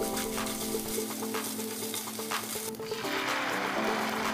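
Tomato paste frying with chopped onions and garlic in a pan for a garlic bread and chicken parmesan sandwich, giving a steady close sizzle with stirring scrapes and a background hum throughout.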